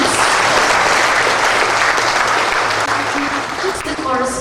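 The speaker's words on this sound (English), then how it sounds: "Can you please give them a round of applause?" Sustained loud applause from an audience of parents and relatives at a culinary toque and anvil ceremony, a dense wash of clapping that continues throughout, with a voice faintly audible near the end.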